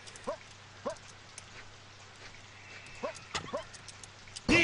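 A dog in the PlayStation game Taiyou no Shippo barks in short, sharp yips, about five spaced bursts over a quiet electronic backdrop, ending in a sudden loud burst of game noise.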